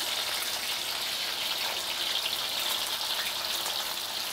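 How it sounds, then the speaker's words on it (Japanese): Meat dropped into medium-hot frying oil, giving a loud, continuous dense sizzle and crackle of bubbling fat, steady and close with no voices. "今入れた途端にこう泡が、気泡が大きく、音が大きくなっているというのは、油の中にお肉のまだ水分が残ってますので"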